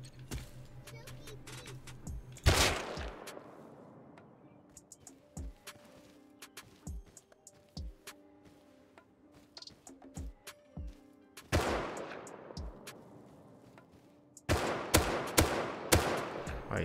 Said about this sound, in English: Shooting through a steel metal wall?